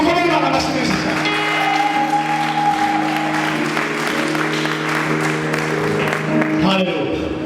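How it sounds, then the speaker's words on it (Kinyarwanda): A church wedding congregation claps loudly and continuously for several seconds while voices and music carry on over the applause. "dukomere Imana amashyi menshi cyane"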